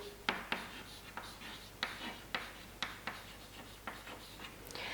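Hand-writing a chemical formula, the pen scratching in a series of short, quiet strokes and taps spaced irregularly across the page, close-up with no talk.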